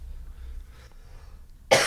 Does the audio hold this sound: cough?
yes